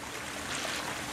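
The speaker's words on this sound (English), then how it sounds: "Got that little waterfall over in the corner." A small waterfall trickles into a backyard garden pond about four feet deep, giving a steady, close, gently splashing wash of water that runs without a break.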